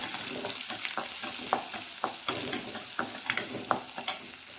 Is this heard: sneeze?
no